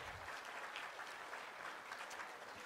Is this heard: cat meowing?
no